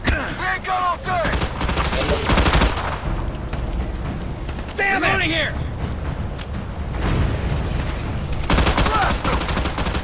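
Shotgun blasts and rapid gunfire in the PS3 video game Battleship come in dense bursts under shouted battle dialogue.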